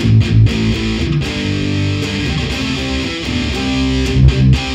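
Fender Stratocaster played through heavy distortion on a Seymour Duncan hot rail bridge pickup, thick crunchy chords strummed in short rhythmic bursts, loud and close with no voice over it.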